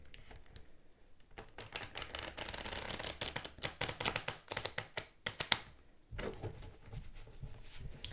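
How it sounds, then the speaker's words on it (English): A deck of oracle cards is shuffled by hand nearby in rapid bursts of soft flicking taps and riffles, pausing briefly before starting again, with no speech. "I've already shuffled these cards quite a bit, but for some reason I felt I needed to do it one more time"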